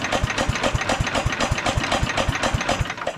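A 1968 Wheel Horse Commando 8 garden tractor, 56 years old, with its engine running: a loud, close, fast and even chugging beat that continues throughout, with no talking.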